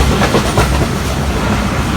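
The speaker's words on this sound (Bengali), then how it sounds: "আমাদের ট্রেনটি এখন প্রবেশ করলো ফুলবাড়ি রেলওয়ে স্টেশন" Titumir Express passenger train rolling into Phulbari station in Bangladesh, a loud, dense carriage rumble with rhythmic clickety-clack from the wheels and no voices.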